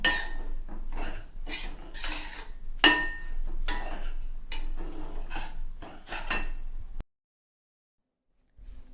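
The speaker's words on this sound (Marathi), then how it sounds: "रवा असा भाजताना आपल्याला सतत ढवळत राहायचं आहे" Dry semolina roasts in a metal pan over medium flame while a spoon stirs it constantly, producing rhythmic scraping strokes and clinks close up, then the sound cuts to silence near the end.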